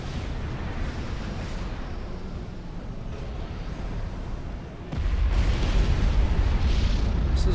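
T3 artillery shells in Supreme Commander Forged Alliance strike in a continuous, heavy rumble of explosions, growing louder and deeper partway through, with no talk over it.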